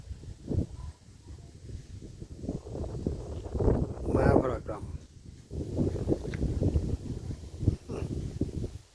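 Gusty wind buffeting the microphone outdoors in Barguna, Bangladesh, rising and falling in rumbling waves while a person talks over it.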